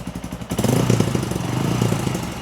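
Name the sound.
Honda CRF150L motorcycle engine with Kalkal exhaust pipe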